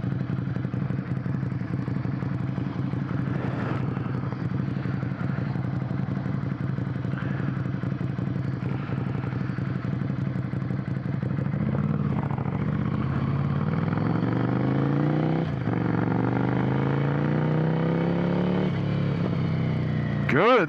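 A Ducati Monster 797 motorcycle growls steadily while riding, its engine note rising through the revs near the end, with a rider talking over it throughout.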